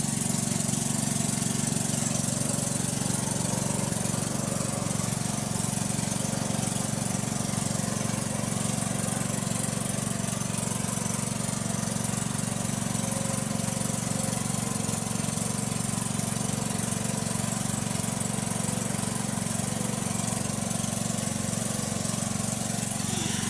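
Engine of a crop spraying machine used on eggplant and string bean fields, running close and steady for the whole stretch with a constant droning rattle and no pauses.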